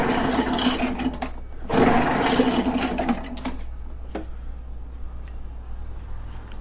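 Echo PB-500H backpack blower engine at full throttle: a loud, dense buzzing roar up close that surges, then cuts off and leaves a quiet low hum with faint ticks.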